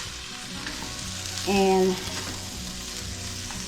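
Potatoes and baby carrots simmering in a pot for elk curry over lowered heat, a steady soft sizzle and bubbling throughout, with a brief voice partway through.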